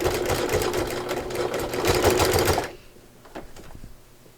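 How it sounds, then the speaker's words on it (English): A sewing machine fitted with a walking foot sews binding onto a baby quilt with a quarter-inch seam, running in a steady fast whir for over two seconds before stopping, followed by a few faint clicks and handling sounds. "Now I've got my walking foot on here, and again, slow and steady."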